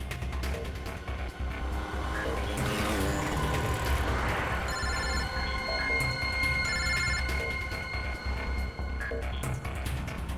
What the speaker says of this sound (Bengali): ফোন কর, তাড়াতাড়ি ফোন কর ওকে।